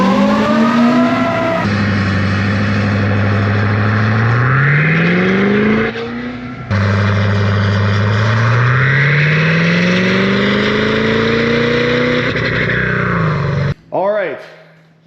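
Ford 6.7 Powerstroke diesel pickup truck on a chassis dyno in 5th gear, engine loud and close, droning as it climbs steadily in pitch through two long pulls with a brief gear break between, then a sudden cutoff and short wind-down.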